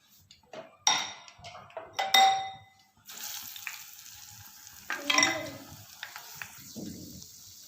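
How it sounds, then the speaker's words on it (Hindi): Batter-dipped bread slices frying in hot oil, bursts of sizzling and crackling as each slice goes in, with clinks of utensils and a steady hiss building in the second half. "डिप करने के बाद हम इसको फ्राई करते हैं।"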